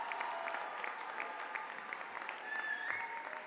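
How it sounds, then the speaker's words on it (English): Applause from the audience at a university commencement ceremony, honoring the graduating students as they stand; steady, dense clapping that holds evenly across the whole stretch with a faint murmur of the crowd beneath. "Give these folks a round of applause."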